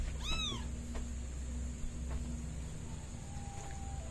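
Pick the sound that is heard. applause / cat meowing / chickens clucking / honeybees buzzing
cat meowing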